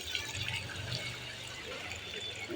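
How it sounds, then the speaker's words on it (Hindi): Water being poured into potted plants at home, a steady soft splashing and trickling that runs throughout at low level with no talk. "गमलों में पानी डाल दूँ"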